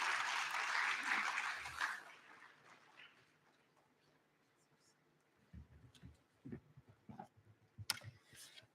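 An audience claps for Engineer Tanui at a conference plenary session, a burst of applause that fades after a couple of seconds, followed by quiet room noise and scattered small sounds.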